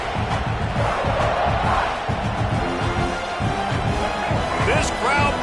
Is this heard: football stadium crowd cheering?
yes